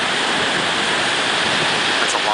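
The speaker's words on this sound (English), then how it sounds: "Those are some really big waves." Big waves of roughly ten-foot ocean surf breaking at a beach beside a pier during a surf contest, a steady loud wash of churning white water filling the whole stretch with no break.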